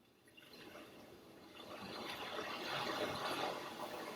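Ocean waves play as a steady background recording in a room set up for a seated stretching class, a continuous broad wash that swells slightly louder partway through, with no talking over it.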